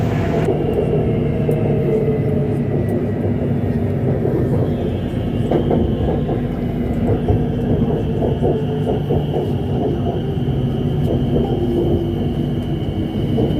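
Continuous rumble and rattle of a moving electric train heard from inside a carriage, with a steady whine and faint clicks from the rails.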